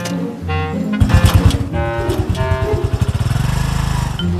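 A vehicle engine cranks, catches and settles into a steady, loud chugging idle with a rapid regular pulse, heard close up and alone.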